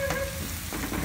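Three cloves of minced garlic frying in a pan and being stirred, a steady close sizzle with a faint scrape partway through, and no one speaking.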